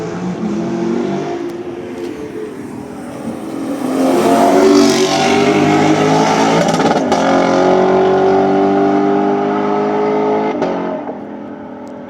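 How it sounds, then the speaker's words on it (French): A flat-six engine on a tuned car at a street car meet in Osaka holds high revs against the rev limiter, a loud, continuous buzzing snarl that rises and stutters, with no voices over it. "Voilà, rupteur de flat 6."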